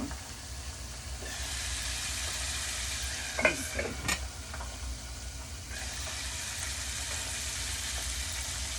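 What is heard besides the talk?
tilapia fish frying in a pan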